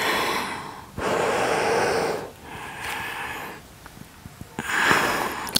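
Slow, deep breathing during a gentle yoga session, with a long drawn inhale and exhale followed by softer, quieter breaths, close and steady with no talking.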